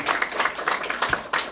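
A church congregation at a Sunday worship service claps together in encouragement. The clapping is fairly close and irregular, in short uneven bursts over a brief moment.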